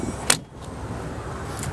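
A 1981 Peugeot 604 Turbo Diesel saloon's door swinging and falling shut, with one sharp close nearby followed by a fainter second knock, over a low steady background hum.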